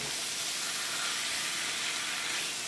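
Onions sizzling in a hot skillet, making a steady, bright, loud hiss that holds evenly throughout with no talking.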